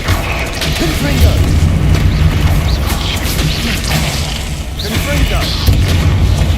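Repeated fiery Confringo spell blasts in Hogwarts Legacy, a dense, continuous roar of booms and crackling debris that stays loud throughout with no letup, with voices faintly present in the mix.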